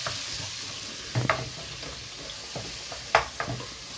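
Savoy cabbage stirred in a frying pan, with a soft steady sizzle and a few sharp scrapes and knocks of the utensil against the pan, heard alone.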